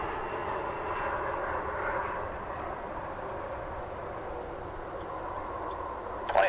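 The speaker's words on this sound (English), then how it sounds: "you'll be able to see the arrival of the Cargo Lux, the 747," A Cargolux Boeing 747 cargo jet arriving at DFW airport makes a broad, steady engine roar. The roar holds fairly constant at moderate distance with no voices, then a brief bump comes at the end.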